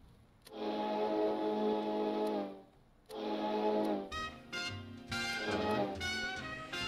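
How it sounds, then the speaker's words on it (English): Steam whistle aboard a ship in the game Stormworks, sounding two long harmonic-rich blasts of about two seconds each, followed by a more broken, wavering whistle burst, loud and close with no talk. "And then our steam whistle."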